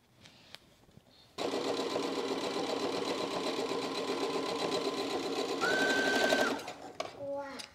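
A home embroidery machine stitches steadily, loud and close, with a rapid mechanical chatter that runs for several seconds, rises briefly near the end, then stops into quiet room sound.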